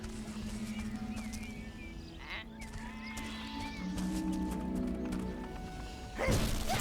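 Sheep bleat in the video game Overlord, faint and intermittent, over a quiet game soundtrack of low tones, with a sudden thud near the end.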